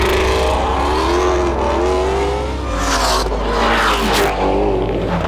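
Flat-plane crank V8 in a Ford Mustang revs hard and close, a loud sustained engine note with rising and falling pitch sweeps and no talking over it.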